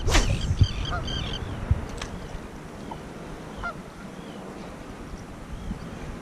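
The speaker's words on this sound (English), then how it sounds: "Bird sounds funny, huh?" A goose honks a few times near a saltwater fishing boat, the calls brief and moderately close at the start, then fading into steady wind and water noise.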